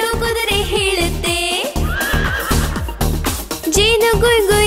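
A horse neighs inside a Kannada children's animal-sounds rhyme, the whinny rising over a steady, loud backing of drums and music throughout.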